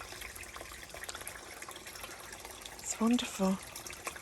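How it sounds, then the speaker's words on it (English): A woodland stream fed by a spring well trickles and runs after rain. The flow is faint and continuous, and a brief spoken remark and a few small nearby knocks sit over it. "the sound of water trickling and running like that is very healing"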